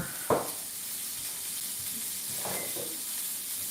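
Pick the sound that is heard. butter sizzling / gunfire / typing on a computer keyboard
butter sizzling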